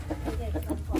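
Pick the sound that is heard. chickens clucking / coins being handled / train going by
chickens clucking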